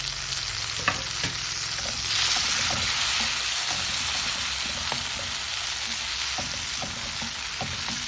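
Onion and tomato sauté in a hot pan, a steady close sizzle running throughout with occasional stirring clicks and scrapes.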